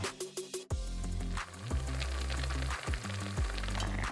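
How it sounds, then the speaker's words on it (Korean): A pot of doenjang and ssamjang sauce with onion and tofu simmering over medium-low heat, a close, continuous bubbling sizzle with a few handling knocks at the start and no talking. "3분 끓여줬다."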